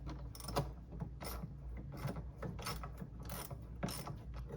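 Ratchet wrench clicking steadily as a 5/16 screw and small bracket come off during automotive A/C and power steering repair work, with repeated pawl bursts in a quick uneven rhythm, close and alone.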